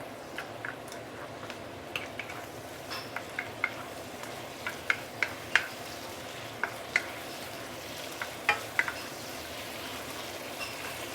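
Soy sauce prawns stir-fry over medium-high heat with a steady soft sizzle, punctuated by light clicking taps of a utensil against the pan throughout.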